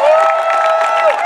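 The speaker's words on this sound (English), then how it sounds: "let us take a round of applause for all the occupations across the world" A crowd at an outdoor Occupy general assembly at St Paul's in London cheers and applauds, a loud sustained wash of whoops and clapping with a raised voice riding above it.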